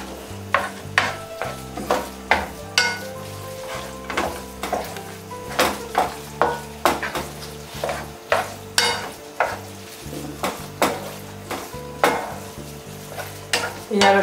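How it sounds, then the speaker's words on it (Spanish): Spaghetti being stirred into a cream sauce in a pan, with repeated rhythmic scraping and wet squelching strokes over a soft sizzle, close and clear, with occasional clinks of the utensil against the pan. "Incorporamos la salsa a los espaguetis."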